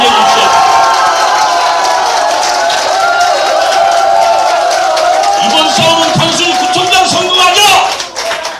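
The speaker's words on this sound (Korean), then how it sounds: "우리 고영일 대표의 위대한 결단에 여러분 한번 박수" A political rally crowd at a candidacy announcement applauds and cheers over a loud amplified speaking voice, with clapping swelling near the end before the sound drops off.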